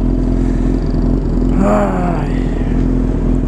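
Exhaust of a Honda CB 1000 motorcycle, a loud, close, steady engine drone with a brief rising rev in the middle, while a voice briefly speaks.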